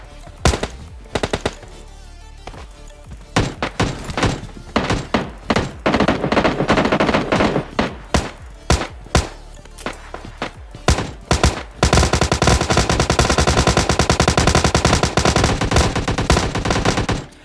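Gunfire from bots and players in the mobile shooter PUBG Mobile Lite: scattered single shots and short bursts, then long sustained automatic fire, loud and near, with no talk.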